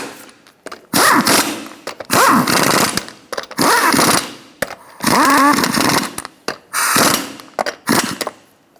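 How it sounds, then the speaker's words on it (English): An impact wrench snugs down the lug nuts on a 2007–2012 Nissan Altima wheel during a CV axle replacement, loud rattling bursts repeating about seven times in close succession with short pauses between them. "Snug down the lug nuts."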